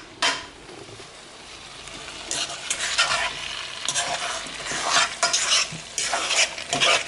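Pasta in a pot on the stove being stirred, with soft scraping and clinking of the spoon against the pot over a faint bubbling sizzle, in irregular close strokes.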